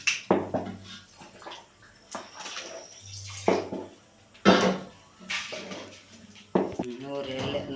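Asafoetida water is poured into boiling rice-flour batter, producing intermittent splashes and sloshing bursts with a few clanks of the pot, while a person talks between the pours.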